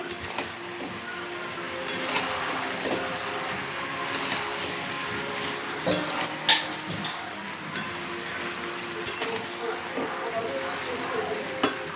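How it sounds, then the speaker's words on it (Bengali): Spiced vegetables being stirred in a pot after the lid comes off, with repeated scraping and clinking of a utensil against metal over a soft background of cooking, no voices. "ঢাকনা খুলে সবজিটা ভালো করে একটু নেড়ে নেব"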